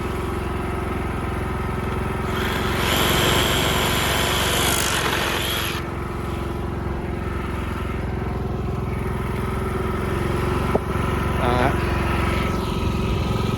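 A portable generator engine runs steadily nearby throughout, a constant droning hum at a trench dug for conduit, with a brief higher whine partway and a sharp knock near the end.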